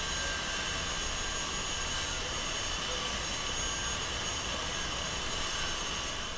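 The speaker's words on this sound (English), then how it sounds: "Sorry about the construction noise again." Steady, broadband construction machinery noise drones on without a break. The roar stays loud and even, a constant rumble with a hissing top, and no voices or clear bird calls rise above it.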